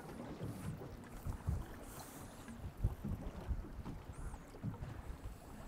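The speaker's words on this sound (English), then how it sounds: "So the winds have picked up." Strong wind at sea buffets the microphone over the steady wash of water against a fishing boat, gusting unevenly throughout with no voices.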